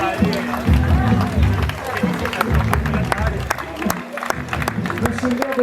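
A crowd at the awards ceremony of La Forestière race cheers and claps for a third-place finisher, with rhythmic applause and hubbub under a voice speaking over a loudspeaker.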